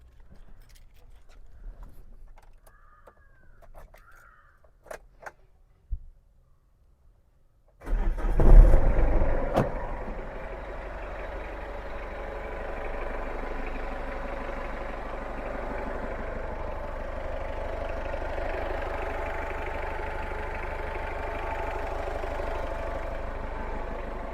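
A stock-exhaust Maruti Zen 1.5 cranks and catches after a quiet stretch, then settles into a steady, even idle held close by for over fifteen seconds.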